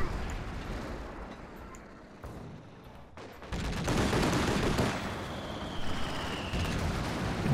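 Heavy strafing gunfire from a V1 in Company of Heroes 2 swells after a quieter opening into a loud, sustained roar of battle noise that continues to the end.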